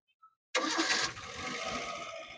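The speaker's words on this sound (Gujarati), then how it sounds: "હવે બતાવીએ કે એન્જિનનું ફાયરિંગ કેવું છે અને કેવું ચાલે છે. આવો નજીક ભાઈ, સેલ મારો જરા, ચાલુ કરો" A Maruti Eeco engine cranks and catches abruptly after near silence, with a loud burst of revving that settles into a steady, rumbling idle close by.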